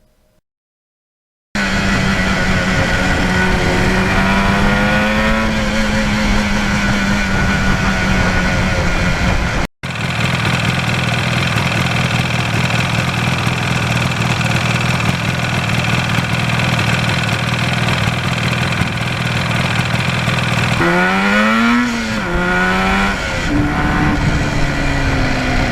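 A 1977 Yamaha RD400 two-stroke motorcycle engine revving up through the gears, loud and close with a buzzy rising whine, a brief cut, then a long steady high-rev run with more upshifts near the end.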